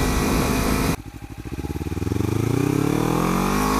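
Kawasaki Ninja 300 motorcycle fitted with a 15-tooth front sprocket, pulling away in first gear on a rural road; the engine note drops, then climbs steadily as it accelerates, loud and close.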